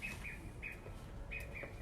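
Small birds chirp indoors in short, bright repeated calls, a few separate bursts at moderate distance over a low room rumble, with no speech.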